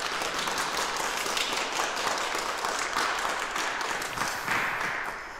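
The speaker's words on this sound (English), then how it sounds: "So let's give her a big round of applause." A church congregation at a Palm Sunday Holy Communion service gives a warm round of applause for Hannah, steady dense clapping from many hands that carries on for several seconds and then tapers off.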